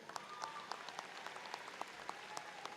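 Faint, distant applause at a university commencement ceremony, a thin steady patter of clapping from the audience with scattered sharper claps standing out.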